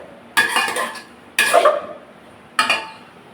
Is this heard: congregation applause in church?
no